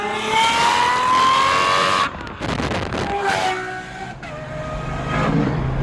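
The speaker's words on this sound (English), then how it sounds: "you have to drive the SVJ with this exhaust system" A straight-piped Lamborghini Aventador SVJ screams through high revs with a shrill, rising exhaust wail, then blips and bangs through a shift before climbing again, loud and close.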